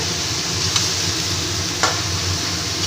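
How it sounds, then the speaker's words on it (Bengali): Bottle gourd and pea greens fry in a pan with a steady sizzle, while a utensil stirs and turns them over; two brief scraping accents stand out against the continuous frying. "মটর শাকটা দিয়ে আবার ভালো করে একটু আমি ভেজে নেব ভালো করে ওপর নিচ করে নিচ্ছি লাউয়ের সাথে"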